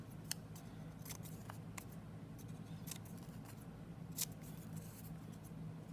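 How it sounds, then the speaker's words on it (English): Scissors snip through small pieces of paper, trimming out little pentagon shapes in a series of light, crisp cuts over a quiet background hum. "you're going to cut out 4 houses or pentagons"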